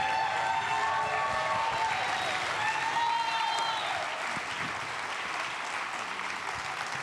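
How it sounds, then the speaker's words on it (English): An audience at an MLK commemoration event applauds steadily, a dense wash of clapping that holds throughout with a few whistles rising over it. "Let's give it a round of applause for Dr. Michael Eric Dyson."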